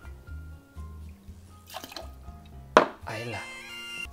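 Botanist gin poured into a cocktail mix, a short liquid trickle and drip with a light clink of glass, close and fairly quiet, over musical background tones.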